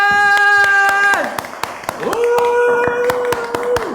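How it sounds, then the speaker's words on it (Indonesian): An audience at a live show claps hands in steady, evenly spaced strokes beneath sustained voiced tones, with voices present throughout. "Kasih suara tepuk tangan, tepuk tangan."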